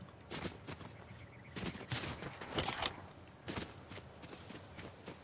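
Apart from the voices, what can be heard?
gunshots in a video game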